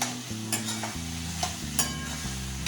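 Potatoes, cut for homemade French fries, stir-fry with masala in oil in a pan, sizzling steadily while a utensil scrapes and knocks against the pan several times, close up with a low hum underneath and no talking.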